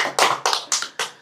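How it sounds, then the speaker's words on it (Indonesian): Four sharp, evenly spaced hand claps from an audience at a religious lecture, close and clear, each fading quickly, with no talk over them. "Tepuk tangan."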